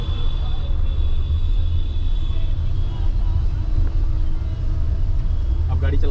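Steady low engine rumble and road noise inside a moving Kia Seltos, continuous throughout, with voices talking over it.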